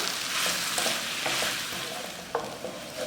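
A spoon stirs tomato rice in a pan over a low flame, giving steady soft scraping and a gentle sizzle with a few sharper clinks, close and continuous.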